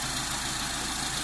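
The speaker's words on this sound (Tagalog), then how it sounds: "after nating ma-set sa 800 RPM" A Mitsubishi 4G13 engine with a piston-type carburetor idles steadily at close range, a continuous low, even hum with no voices over it.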